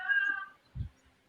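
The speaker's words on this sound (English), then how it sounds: "y'all hear my cat in there?" Cat meowing indoors in the background of a live talk show, one drawn-out distant meow followed by a short low thump, faint and otherwise quiet.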